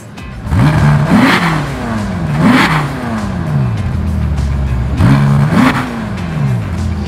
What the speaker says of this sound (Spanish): El sonido de un Ferrari la verdad es muy característico y más de estos atmosféricos